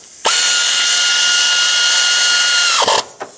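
A power tool drives in the bolt holding an ignition coil on a 2006-2011 Chevy HHR engine: one loud, steady whirring burst of under three seconds, close up, then it stops with a short rattle.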